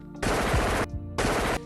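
A gunshot sound effect for a Gunshot Flash overlay plays as two loud bursts of rapid automatic gunfire, the first lasting over half a second and the second slightly shorter, separated by a brief gap.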